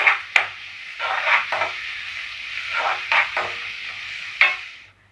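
Finely chopped onions sautéed in a pan until golden, a steady close-up sizzle broken by several sharp spoon scrapes and stirring knocks.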